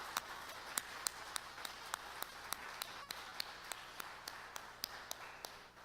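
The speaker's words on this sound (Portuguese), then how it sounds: "Você pode aplaudir o Senhor?" A church congregation at a Sunday celebration service claps for the Lord, with faint, sharp handclaps landing in a steady rhythm over a soft background hiss.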